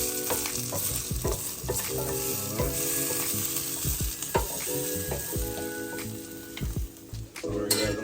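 Mushrooms for Philly cheesesteak frying on a flat griddle, a loud constant sizzle broken by repeated metallic spatula scrapes and clanks, close up with no talking.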